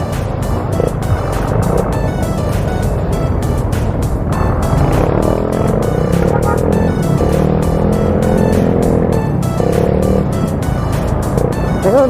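Honda Scoopy scooter with a modified stock exhaust pipe revving repeatedly, loud and close, its engine note rising and falling in continuous blips with a raspy, popping edge and no talk over it.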